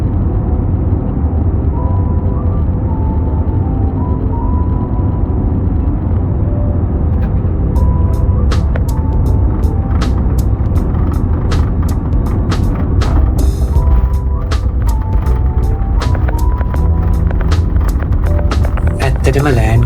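A SriLankan Airlines passenger jet landing at Singapore's Changi Airport, heard from inside the cabin as a loud, steady low roar, with a rattle of clicks and bumps setting in partway through and a voice speaking over it.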